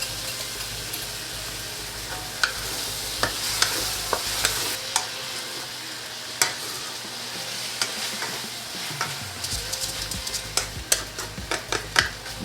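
Butterflied shrimp sizzle and fry in a pan as sauce goes in, with a steady crackling hiss, scraping stir strokes and sharp clicks from the spatula.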